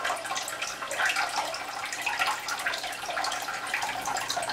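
A newly installed toilet tank refills slowly, giving a steady, moderately faint hiss and trickle of running water with small splashy gurgles throughout, with no talk.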